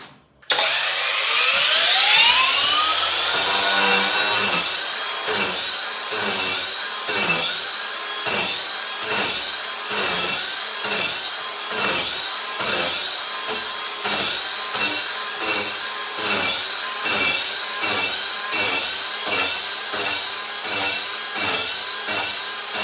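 An angle grinder fitted with a paint-stripping attachment whines up to speed, then scrapes in steady rhythmic strokes across a surface layered with old paint, loud and close, with no voices.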